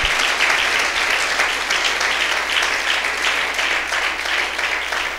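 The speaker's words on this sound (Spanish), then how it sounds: "Dele un aplauso a Él" A large crowd applauds steadily and loudly, a dense wash of clapping that holds without pause.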